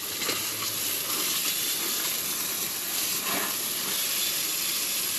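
Steam hissing steadily off an overheated air-conditioning compressor as water is sprayed onto it, a continuous broadband spray-and-sizzle wash with faint ratcheting texture, close and unbroken, no voices.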